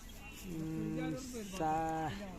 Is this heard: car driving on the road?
no